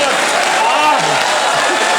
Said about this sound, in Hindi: ताली बजा दीजिए जोरदार।